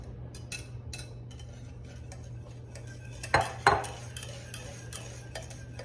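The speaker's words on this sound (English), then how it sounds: "Stir them to mix well." A small spoon stirs egg yolks into warm cream in a pan on the heat, soft scraping with two sharp clinks against the pan, over a steady low hum; no talking.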